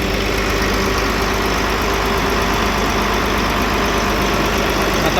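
A Volvo truck diesel engine, just repaired after an injector fault that caused white smoke and misfiring, idles close and loud in a dense, steady rumble with no talking.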